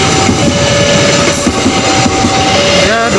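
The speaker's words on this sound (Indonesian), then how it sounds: "Demikianlah kereta api Kuto Jaya Selatan meninggalkan stasiun Tasikmalaya." The Kuto Jaya Selatan passenger train rolls out of Tasikmalaya station, its wheels clattering and squealing loudly and continuously at close range, with a faint steady hum.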